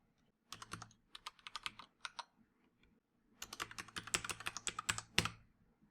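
Rapid typing on a computer keyboard while filling in a registration form, two bursts of quick clicking keystrokes, close and clear, with a short pause between.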